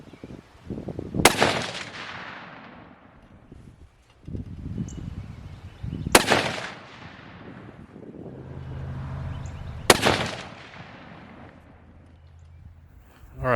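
Three sharp rifle shots from a .30-06 loaded with nickel-plated, orange-tipped bonded bullets crack out about four seconds apart outdoors, each followed by a rolling echo and low rumble that trails off before the next.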